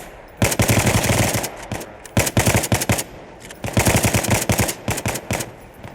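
Rapid automatic gunfire in a military simulation shooter game, heard in two long bursts of loud, closely spaced shots with a short pause between them and no talk.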